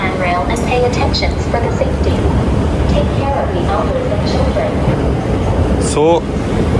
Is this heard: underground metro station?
yes